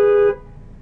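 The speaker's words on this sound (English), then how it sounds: "Look, I'll honk and they won't care." A single short car horn honk sounds close and loud for about a third of a second, then cuts off into a quiet, low rumbling background.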